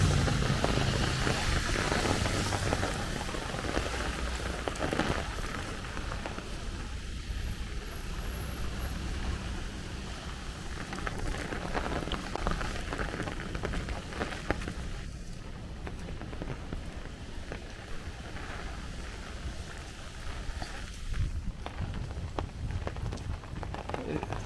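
Heavy downpour during a thunderstorm squall line on a Brooklyn street during a rained-out street feast, a dense continuous roar of rain with gusty wind, steady and loud throughout with occasional faint knocks.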